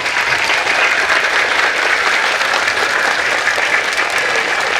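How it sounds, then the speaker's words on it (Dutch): Steady, full audience applause at a school Diwali celebration with pupils and teachers, dense clapping sustained and loud throughout with no talk over it. "Mag ik een groot applaus voor de heer Jayant"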